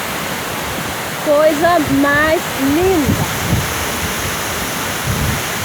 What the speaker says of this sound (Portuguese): numa cachoeira linda, Cachoeira do Tigrinho,